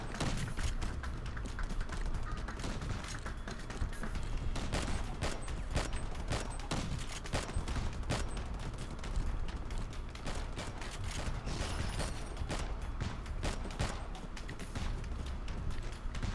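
Rapid pistol gunfire in the R.I.P.D. The Game shooter, a dense run of sharp shots crackling steadily over a busy mechanical game soundscape for the whole stretch, with no talking.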